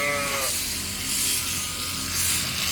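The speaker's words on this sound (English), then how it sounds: "the sheep in the front that's been standing as the lure all day" Sheep bleating in a pen among Suffolk ewes and Dorset rams at shearing time, a wavering bleat up front followed by a loud, continuous electric buzz of machinery.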